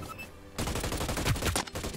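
Rapid automatic gunfire from a weapon in the shooter game Hyper Scape starts abruptly after a short quiet moment and keeps rattling in a dense, loud, continuous burst.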